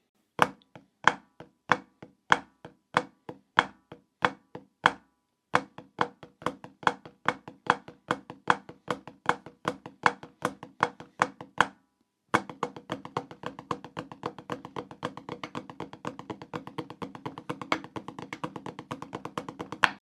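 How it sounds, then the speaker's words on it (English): Snare drum flam-tap rudiment played in three bursts, slow, then medium, then fast, with short pauses between. Sharp, close strokes grow into a dense, rapid flurry, and no one speaks. "so you can kind of go flam tap, flam tap, flam tap, flam tap, if you really want to"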